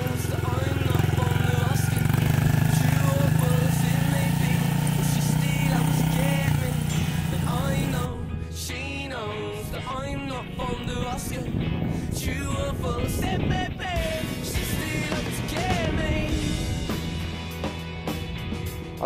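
A pit bike rides around a bumpy dirt track, its small engine buzzing and revving, loud and close at first and then further off and varying. Voices talk over it.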